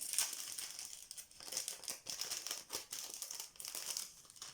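A plastic sachet being pulled out of a small subscription box, heard as close, fairly loud crinkling and rustling in irregular bursts throughout, with no speech.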